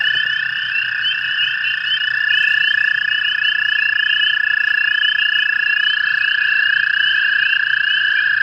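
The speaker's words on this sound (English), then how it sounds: "That there's the American toad. He's calling to his mates there." American toads trill at night in an Ontario spring pond, a dense, loud chorus of overlapping long steady trills with several callers close by, continuous throughout.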